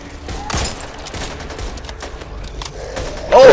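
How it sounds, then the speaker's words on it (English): Gunfire in the zombie shooter Back 4 Blood, a scatter of sharp shots broken up through the stretch and ending in a louder burst, heard alone with no talk. "I'll shoot the zombie there eating the crows"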